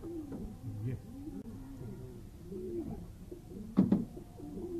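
Pigeons kept by fanciers in Multan coo in repeated soft, rolling calls close by, with a brief louder burst of cooing near the end over faint background chatter.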